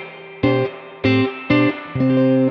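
Clean electric guitar tone recorded dry with no reverb, four separate strummed chords played in a slow, even rhythm. Each chord rings briefly and then cuts off, up close and clear, with no voices.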